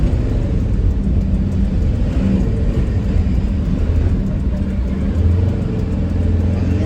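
A Sprinter van engine drones loud and steady while driving on an open road, with a constant low rumble and road noise and slight swells in revs, no voices.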